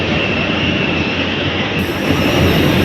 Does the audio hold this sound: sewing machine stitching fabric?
no